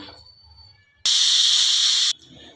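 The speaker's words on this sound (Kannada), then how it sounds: "ಈಗ ಕುಕ್ಕರ್ ಮುಚ್ಚಿ ಒಂದು ವಿಸಿಲ್ ಮಾಡೋಣ ದೊಡ್ಡ ವಿಸಿಲು" A pressure cooker cooking dhaba-style green gram dal lets out one loud, sharp steam whistle lasting about a second, cutting in abruptly and stopping just as suddenly against faint kitchen background.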